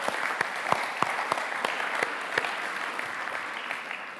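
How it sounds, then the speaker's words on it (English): Congregation at a church service applauding its trustees and safeguarding team: a steady wash of many hands clapping at moderate loudness, with a few sharper individual claps standing out, fading slightly toward the end. "Let's give them a round of applause again"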